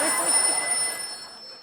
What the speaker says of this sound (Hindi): भारती का फोन